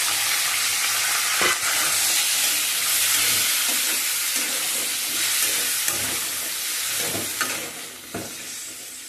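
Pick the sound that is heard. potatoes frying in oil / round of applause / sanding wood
potatoes frying in oil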